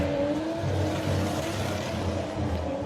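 Modified street car at an Ultimate Street Car event, engine held at a steady throaty rumble with light throttle blips, loud and continuous with crowd and outdoor noise underneath.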